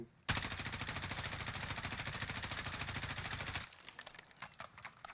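Sustained automatic fire from an M4A1 rifle in a video game, a rapid, even stream of loud shots for about three seconds, then a quieter spattering of echoes and scattered clicks.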